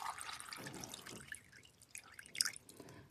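Water is poured over silicone mold grit, giving a faint trickling and dripping with a few sharper splashes near the end, quiet and without voices.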